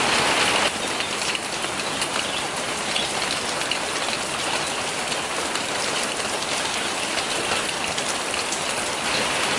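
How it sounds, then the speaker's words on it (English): Steady rain falls outdoors near a garden, a dense, even hiss of drops on surfaces lasting throughout with no voices, constant and fairly close. "I think this is just like normal rain now"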